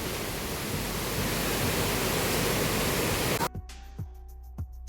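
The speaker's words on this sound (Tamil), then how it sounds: "இந்த அருவிக்கு வந்தாச்சு இது வந்து பஞ்சலிங்கம் அருவி" Panchalinga waterfall in the Thirumoorthy hills roars as a steady, loud broadband rush for over three seconds, then cuts off abruptly, leaving near silence broken by a few faint taps and thumps.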